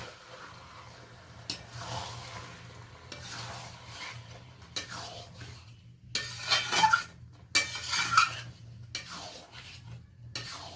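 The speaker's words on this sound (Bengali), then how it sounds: "হালকাভাবে আমি 1-2 বার নেড়ে নেব মশলার সাথে।" Katla fish head pieces being turned with spices in a pan: a soft sizzle underneath, broken by several bursts of scraping and clinking from a spoon against metal, stirred in short strokes.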